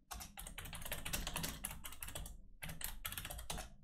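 Rapid keystrokes clatter on a computer keyboard in quick bursts with brief pauses between runs, close and fairly quiet, no voices.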